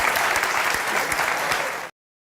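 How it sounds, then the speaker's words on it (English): Audience applause at the end of a show, a steady dense wash of clapping lasting about two seconds before cutting off abruptly. "You see, you got applause at the end."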